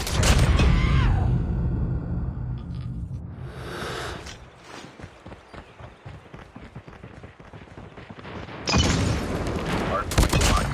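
Grenade blast and gunfire in the mobile shooter COD Mobile: a loud boom up front, then a long stretch of dense, rapid gunshots and crackling fire. A second heavy burst of shooting and blasts closes it out.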